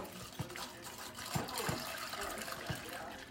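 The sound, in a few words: pouring tea into a teacup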